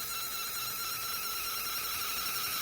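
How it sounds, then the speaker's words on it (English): A steady, high-pitched whine with layered tonal hiss runs continuously from a Gweike G2 Pro laser engraver droning nearby. "Sorry for that loud noise of the laser."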